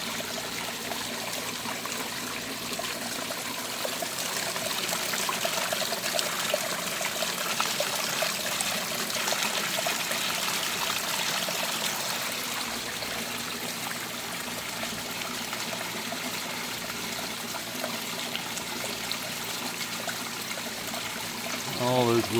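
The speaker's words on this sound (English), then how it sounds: "If we don't want any splash, we can just slide that log over and let it hit down." Water streams steadily and splashes down over a log in a garden water feature, a continuous close, broadband rush with trickling detail throughout.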